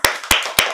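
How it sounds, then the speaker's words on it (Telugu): A small group claps together three times in quick, evenly spaced bursts, the sharp hand claps close and loud with no other sound between them. "అందరు క్లాప్స్"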